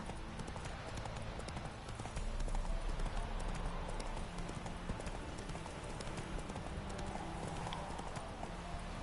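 Roach, a horse in The Witcher 3, gallops with steady, rapid hoof clip-clops over continuous outdoor ambience, the rhythm holding throughout at moderate volume.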